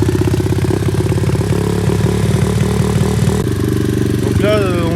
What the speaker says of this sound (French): Donc là on va vous faire écouter le bruit de la moto à froid.